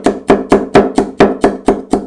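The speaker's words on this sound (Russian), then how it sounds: "Болгарский перец." A knife cuts a bell pepper on a board during preparation of a homemade US Army MRE ration, giving nine steady, well-spaced sharp chops, close and loud, with a crisp thud on each stroke.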